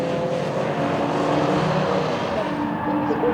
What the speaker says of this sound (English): At this point, Ed McKean in his BMW 325i was leading the way from Andrew Stacey's Mini.